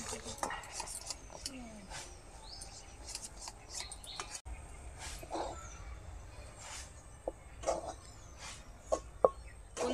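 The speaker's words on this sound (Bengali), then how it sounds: "অল্প অল্প করে চালের গুঁড়ো দেবো, আর নাড়াতে থাকবো যাতে দলা না পাকিয়ে যায়।" Rice flour being stirred into boiling water in a pot for nakshi pitha, with a utensil scraping and clinking against the pot in sporadic bursts while a voice talks nearby.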